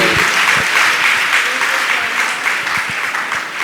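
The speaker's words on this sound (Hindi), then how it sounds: "जोरदार जोरदार तालियां बजती रहनी चाहिए।" Loud, sustained applause from a gathered crowd at a religious assembly in Gunayatan, Jharkhand, clapping briskly and continuously with individual hand claps standing out near the front.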